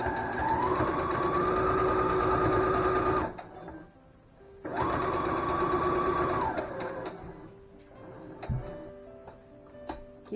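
A sewing machine stitches a fabric face mask in two steady whirring runs of about three seconds each, separated by a pause, then a few soft clicks and ticks as the work is adjusted.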